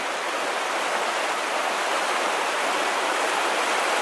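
The Pambay river near Puyo flows in a steady, full broadband rush of water, close and continuous like a stream or small rapids, with no talking over it.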